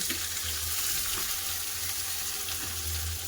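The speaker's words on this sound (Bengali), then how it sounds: "বেগুনের ভর্তার জন্য দিয়ে দিলাম সরষার তেল তেল গরম হয়ে গেছে দিয়ে দিলাম পেঁয়াজ" Chopped onions fry in hot mustard oil for an eggplant bharta, giving a close, continuous crackling sizzle with no talking.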